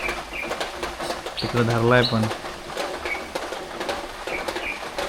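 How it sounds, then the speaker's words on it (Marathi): Birds call and chirp through steady rain, short bright calls repeating across the scene while a person talks over them in the foreground. "पाऊस असला तरी पक्षी काय ओरडायचं थांबत नाही. किलबिलाट पक्ष्यांची चालूच आहे."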